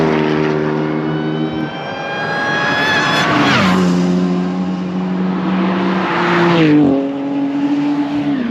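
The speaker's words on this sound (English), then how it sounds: "You can hear the supercharger." An Ariel Atom race car passes on the track at Knockhill, its loud engine note rising and shifting through gears with a high supercharger whine riding on top, then dropping pitch as it goes by.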